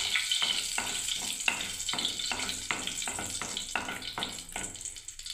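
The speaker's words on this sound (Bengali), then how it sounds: "দুটো এলাচ দিয়ে দিচ্ছি, দেখুন গোটা এলাচ ওই তেলের মধ্যে" Whole cardamom pods fry in a little hot oil in a pan, giving a soft, continuous sizzle broken by rhythmic stirring scrapes about every half second, close by and fairly quiet, with no talk.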